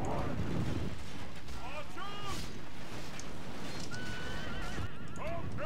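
Cavalry horses in Third Age Total War, a Gondor siege battle, whinny and neigh several times over a constant wash of battle noise, with hooves clopping and a voice talking now and then.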